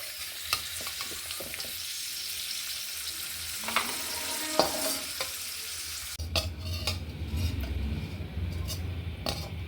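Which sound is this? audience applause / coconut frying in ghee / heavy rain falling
coconut frying in ghee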